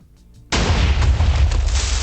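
Minecraft TNT detonating in a video game, a sudden loud boom that cuts in partway through, then a sustained roaring rumble of further blasts after a quiet stretch of faint game sound.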